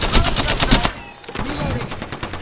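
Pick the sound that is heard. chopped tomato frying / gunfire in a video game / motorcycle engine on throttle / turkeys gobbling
gunfire in a video game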